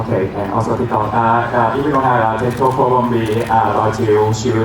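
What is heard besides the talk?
No everyday noise stands out behind the speech.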